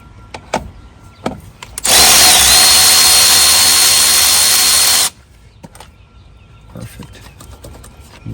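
A power tool spins off a 12 millimeter bolt on a Ford Powerstroke diesel truck, one loud burst of whirring lasting about three seconds, with quiet clicks and handling noises before and after.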